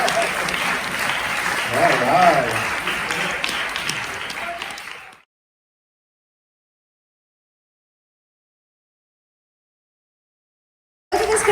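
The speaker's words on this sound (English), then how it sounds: "Let's give her a clap" Church audience claps for a new Connections Minister, lively applause with a voice speaking over it, cutting abruptly to silence for several seconds before resuming briefly at the end.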